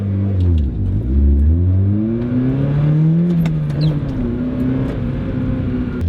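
A small car engine revs and pulls away nearby, its pitch rising and falling through gear changes under a steady road rumble.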